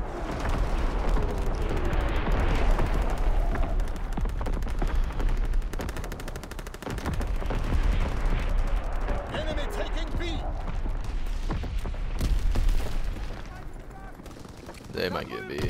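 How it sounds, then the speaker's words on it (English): Call of Duty: WWII battle din with continuous artillery and machine-gun fire thundering steadily and loud, with dense overlapping blasts, while someone talks throughout. "Firing primary battery."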